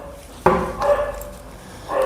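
Dogs give out a sharp bark followed by a couple of short whining yelps, moderately loud and nearby over a quiet background.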